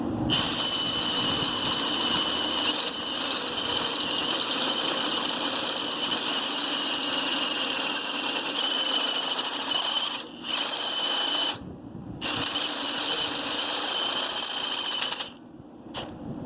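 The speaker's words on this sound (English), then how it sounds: "That way your drill bit lasts longer and you don't burn out the motor on your drill" A power drill grinds steadily through metal trailer equipment with a loud, continuous whine, briefly pausing twice near the end.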